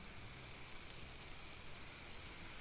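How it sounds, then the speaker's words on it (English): Crickets chirp at night in an ancient forest beside a river, a faint, even series of short high chirps repeating over a quiet background hiss. "the gentle chirping of crickets"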